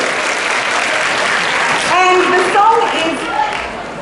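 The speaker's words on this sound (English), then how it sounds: "give them a round of applause" School assembly audience giving a round of applause to volunteering students and teachers, steady clapping throughout with voices talking and calling out over it.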